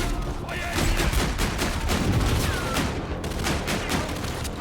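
Covering fire in Call of Duty: Infinite Warfare: steady, continuous automatic gunfire with a rumbling battle din, held at an even level throughout.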